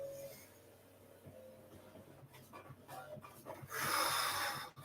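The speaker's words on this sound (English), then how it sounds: "we're going to exhale out, down through our mouth" Deep breaths during a seated cardio cool-down, one long, loud, breathy exhale pushed out through the mouth after quieter inhaling, with no talking.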